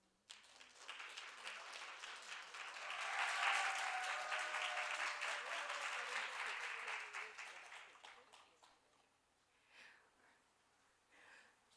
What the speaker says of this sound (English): So let's welcome our presenter with a big round of applause.